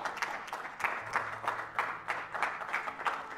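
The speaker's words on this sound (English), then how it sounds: "round of applause" A small group claps in a brief burst of rhythmic applause at a Dark Souls 2 speedrun at DreamHack Winter 2014, moderately close, with a faint low hum underneath.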